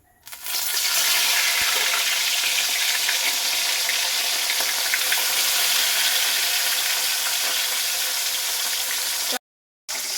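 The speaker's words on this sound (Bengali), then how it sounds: "এবার আমি দিয়ে দিচ্ছি মাছগুলো ভাজার জন্য।" Fish dropped into smoking-hot oil in a pan set off a loud, continuous sizzle that starts abruptly, roars steadily for several seconds, then cuts out briefly near the end.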